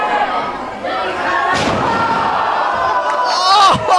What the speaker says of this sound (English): Tombstone Piledriver off the top of that ladder, and this crowd erupts